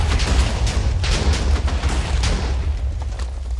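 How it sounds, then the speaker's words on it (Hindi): A TNT bomb blast booms with a dense, rumbling roar, heavy low-end detonation noise sustained with several punchier bursts, loud and close throughout. "ये बॉम्ब ब्लास्ट तो बहुत धमाकेदार होने वाला है"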